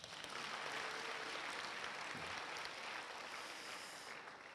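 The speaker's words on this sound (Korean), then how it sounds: "이제는 박수 쳐도 돼요." Audience applause at a Methodist theological seminary spiritual retreat service, a steady, full round of clapping from a large crowd that holds loud for several seconds and eases slightly toward the end.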